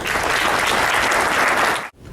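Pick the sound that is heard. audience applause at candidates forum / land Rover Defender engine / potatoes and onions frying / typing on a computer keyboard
audience applause at candidates forum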